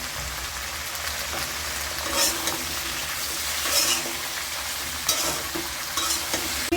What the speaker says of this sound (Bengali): এখন আমি আলু আর সিম বেজে নেব